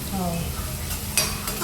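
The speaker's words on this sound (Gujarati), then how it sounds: "લસણ નાખી દીધું." Garlic frying in hot oil for a garlic potato curry, a dense continuous sizzle with a spatula scraping and clinking against the pan, and a brief louder burst near the end.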